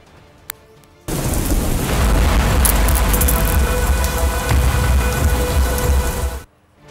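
Heavy rain pours down in Lahore under dark clouds, a loud dense hiss that starts abruptly after a quiet moment, holds steady for several seconds and then cuts off near the end.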